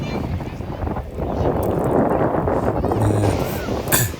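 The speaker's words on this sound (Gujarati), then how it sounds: "હમણાં જુઓ મોજા ઉછળી ઉછળીને આવે છે" Surf washes in at Shivrajpur Beach as a loud, broad rushing roar that swells through the middle under heavy wind buffeting on the microphone.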